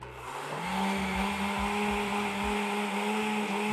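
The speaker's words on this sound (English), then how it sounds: "let's try to run the blender while we're drawing 33 watts" Blender running on an ITEHIL 500W portable solar generator, a loud steady motor whir with a pulsing low churn that carries on throughout without any talk.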